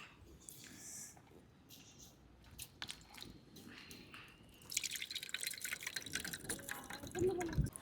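Hands squeeze tamarind soaked for three hours in water, giving wet squishing and dripping sounds that start quiet with scattered drips, then grow busier and louder in the second half.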